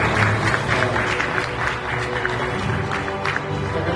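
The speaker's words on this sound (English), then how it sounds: "So, a big round of applause for." A crowd at a community gathering in Chicago applauds in dense, steady clapping that stays loud throughout, with a faint murmur of voices mixed in.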